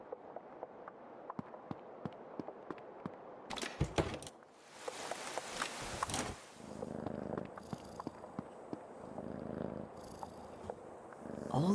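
A cat purrs steadily in the video game Creepy Tale 2, a soft rhythmic rumble broken by sharp clicks and a burst of louder noise midway, with no talking.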